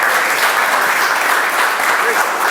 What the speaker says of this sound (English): Sorry to interrupt your clapping.